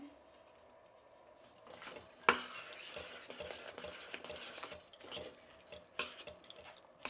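Boondi laddu mixture is stirred together with dry fruits, giving soft scraping and clinking strokes that start quietly and grow busier, with a sharp knock partway through and uneven bursts toward the end.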